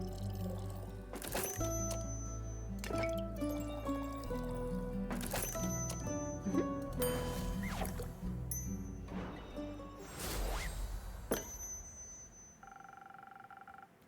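Liquid poured to mix a drink in a tavern video game, repeated splashy pours and drips in bursts over background game music, no voices.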